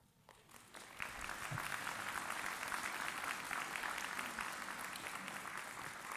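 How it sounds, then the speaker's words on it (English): A crowd breaks into steady, sustained applause at a summer convocation ceremony, rising quickly and continuing evenly at a moderate distance. "by a round of applause"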